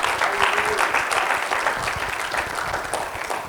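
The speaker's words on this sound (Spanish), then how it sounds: "Denle un aplauso fuerte al Señor" Church congregation applauding loudly at a Spanish-language worship service, a dense, steady roar of many hands clapping close by for the whole stretch, with a faint voice briefly underneath.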